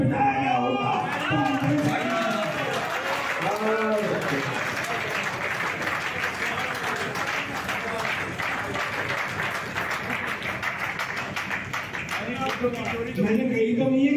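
Audience at a national poetry gathering in East Delhi applauding, a dense continuous roar of clapping and crowd noise with a few shouts, loud and sustained throughout, with voices heard beneath it early on.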